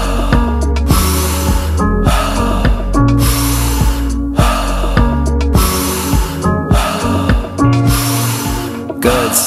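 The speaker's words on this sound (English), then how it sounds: "In through the mouth, out through the mouth." Rhythmic Wim Hof style breathing in and out through the mouth, a steady series of loud forceful inhale-exhale cycles about once per second, close up over soft background music.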